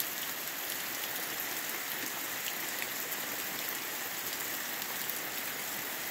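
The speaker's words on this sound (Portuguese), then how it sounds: "A chuva parecendo ser geral aqui na região" Steady, even rain pours down across the Bahia backcountry, a dense continuous hiss of drops on surfaces with no pauses and no voices.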